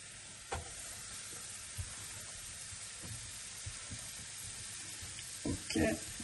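Red onion frying in a pan: a steady, soft sizzle hissing throughout, with a few light knocks and clatters of the pan or utensil, fairly quiet and without speech.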